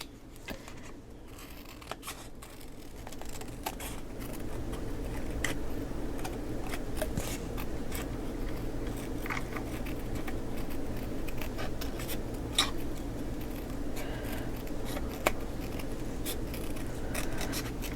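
Scissors cut around paper for a mini album in a long, close run of small snips and rustling paper over a steady background hum, with no one talking.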